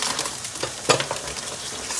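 Food sizzles and crackles in a hot pan, with a sharp clatter as peas are tipped in, followed by continued frying hiss.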